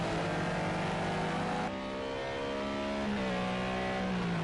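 Onboard a BMW M6 GT3 race car at Ruapuna Park, the engine drones loudly and steadily, dipping briefly on a gear change before pulling up again.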